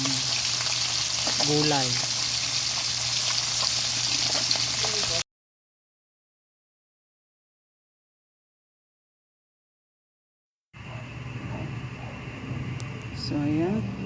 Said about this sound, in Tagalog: piniprito na natin yung yung isda